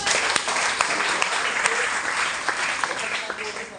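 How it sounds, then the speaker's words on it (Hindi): Loud applause from an audience fills the space, dense and steady with a few sharper claps standing out, and faint voices mixed in underneath. "जोरदार ताली होना चाहिए।"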